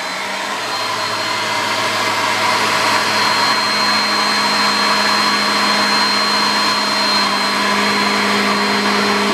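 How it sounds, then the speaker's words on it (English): A vacuum cleaner runs steadily and loudly close by, cleaning up debris from cutting grommet holes: a constant whooshing motor drone with a high whine, unbroken and with no talking. "Grab your vacuum cleaner."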